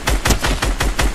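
Rapid gunfire in Fortnite, a quick burst of about six sharp close shots in an even rhythm, loud and clear with no talk over it.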